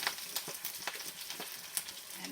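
Cumin seeds frying in a pan of Indian dal give a faint, steady sizzle with light crackles and a few soft scraping taps.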